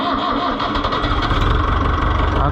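An Oliver 1365 tractor engine cranks over and fires, then settles into a loud, close, steady rough idle with a dense low-frequency rumble.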